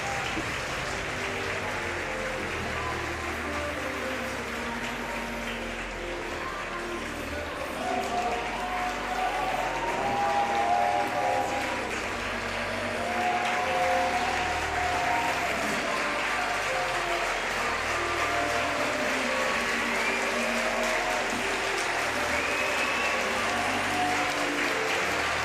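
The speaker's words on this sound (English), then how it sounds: "Applause for the winner." Crowd applause fills an arena after a wheelchair para table tennis match, sustained and steady for the whole stretch, with faint voices in the crowd beneath it.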